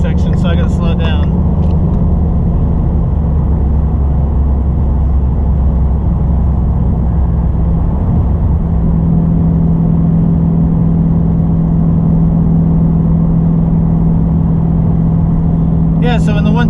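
A car cruising on the Autobahn at around 150 mph produces a loud, constant low roar of engine, tyres and wind, with a voice briefly heard at the very start and end.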